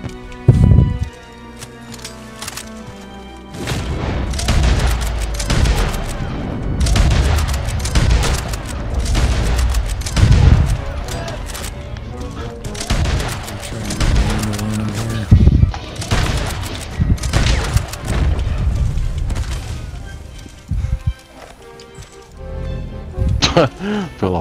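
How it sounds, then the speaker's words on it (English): Explosive-round gunfire in Red Dead Online during a large player-versus-player fight at Valentine, repeated heavy booming shots and blasts mixed with hoofbeats and music, loud and frequent, with people talking throughout. "You gotta use the explosive round?"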